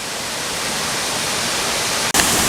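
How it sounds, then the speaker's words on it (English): Murray Reynolds Waterfall in a Pennsylvania state park pours in a continuous close hiss of falling water, broken by a brief dropout near the end. "this is the final waterfall of the day, Murray Reynolds Waterfall"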